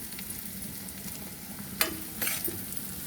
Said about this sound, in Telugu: ఇలా వేగించుకోండి